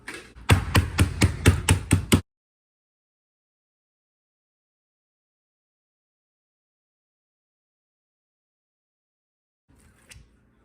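A quick run of about eight heavy thuds in steady rhythm as tenderloin is pounded with a rock, close and loud, followed by long silence and a faint shuffle at the end.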